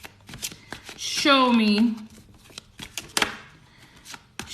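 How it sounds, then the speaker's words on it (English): Tarot cards being shuffled by hand in quick crisp riffles and taps, close up, while someone talks over them. "where my Scorpios are at while I shuffle."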